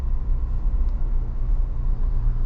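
A 2022 Ford Bronco Badlands with a four-cylinder engine and seven-speed manual, heard from inside while driving: a steady low engine and road rumble, constant and moderately loud with no talk.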